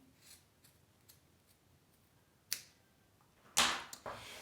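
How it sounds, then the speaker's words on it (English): Scissors snip fabric close to the stitching on a sewing project, a few faint ticks followed by two louder, sharper cuts near the end, close and alone. "I'm trimming close to my stitching."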